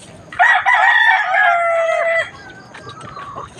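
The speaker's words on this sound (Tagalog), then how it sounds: "dito na tayo sa ating munting manukan." Backyard chickens cluck while a rooster crows loudly and close by in a single long call, followed by quieter clucking from the flock.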